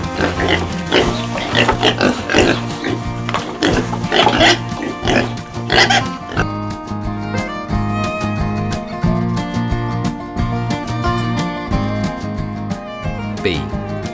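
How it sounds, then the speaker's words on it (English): A farm pig oinks in a repeated grunting rhythm over a bouncy nursery-rhyme backing track, loud and up close. "pig,"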